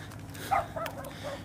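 A dog in a neighbourhood at night gives a few short, faint yips and whimpering barks at a distance over low background hum.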